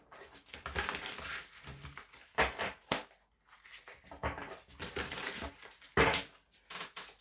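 Bursts of tarot cards being shuffled and riffled close by, in several short rounds separated by brief pauses.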